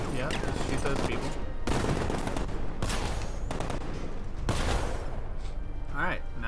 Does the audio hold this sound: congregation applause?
no